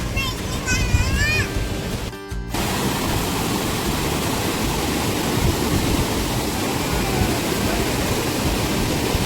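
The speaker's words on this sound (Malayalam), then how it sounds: "ഭയങ്കര മഴയും ഭയങ്കര കാറ്റുമാണ്" Heavy rain and strong wind in Wayanad make a constant dense wash of noise, loud and unbroken, after a brief burst of a voice and a short clatter at the start.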